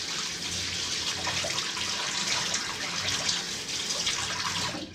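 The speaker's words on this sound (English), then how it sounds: "I rinse the end of my hair with cold water" Cold tap water runs steadily while hair is rinsed, a broad continuous splashing hiss that stays even and close for several seconds before cutting off at the end, with no voices.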